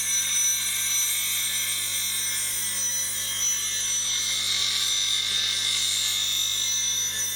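A woodturning spindle gouge ground on a bench grinding wheel to a fingernail profile makes a continuous, fairly loud high-pitched grinding hiss over the steady hum of the grinder motor, with no talking.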